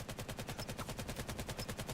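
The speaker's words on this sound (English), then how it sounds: "so many gunshots going off in my ears" Rapid automatic gunfire in the competitive shooter VAIL, a steady fast burst of loud, evenly spaced shots with no pauses and no voices.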